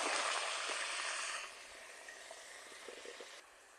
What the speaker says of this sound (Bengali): এই তেলে আমি এই আলুগুলো ভেজে নেব।